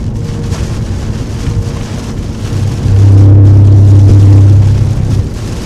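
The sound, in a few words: heavy rain during tornado storm chase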